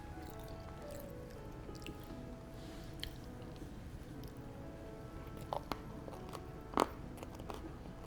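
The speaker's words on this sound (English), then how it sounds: "Caramel is very crunchy." Quiet, close crunching and squishy chewing sounds from eating a St. Honoré gateau with crunchy caramel and choux pastry, with a few sharper crisp bites standing out near the end.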